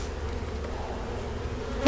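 Honey bees buzz around an opened hive box during an early spring honey harvest, a steady, close, dense drone that continues throughout without talk.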